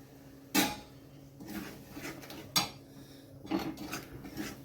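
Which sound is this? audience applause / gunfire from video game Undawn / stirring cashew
stirring cashew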